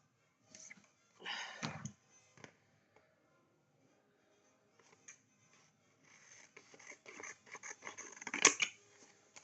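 Scissors snip photos for a scrapbook in short, close bursts of crisp cutting, separated by quiet pauses, with a longer run of snips and paper rustling toward the end.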